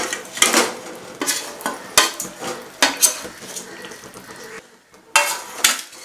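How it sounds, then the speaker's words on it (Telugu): Sugar syrup with sweets being stirred in a pan on a stove, giving repeated scraping and clattering utensil strokes in irregular bursts, close and fairly loud, with a brief pause near the end. "మళ్ళీ ఒకసారి మొత్తం అన్నీ కలిపి మిక్స్ చేసేద్దాం"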